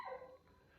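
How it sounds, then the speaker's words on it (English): A single short dog bark, fairly close, trailing off into quiet background. "I'm sorry about the dog barking."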